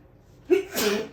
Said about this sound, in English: I just sneezed wicked